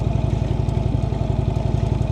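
An Indian motorcycle engine idles close by, a steady low pulsing throb with even mechanical clatter, continuous and loud with no other sounds.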